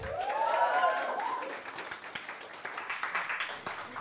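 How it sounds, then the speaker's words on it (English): Audience applause welcoming a ventriloquist's puppet, a short burst of scattered claps that follows a brief tonal sound at the start, fairly quiet and thinning out toward the end. "give it up means clap and welcome, and that's what they did"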